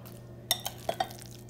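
Metal utensils clink and scrape against a dish while guacamole is served onto it. There are four short, close knocks in quick succession, and no one speaks.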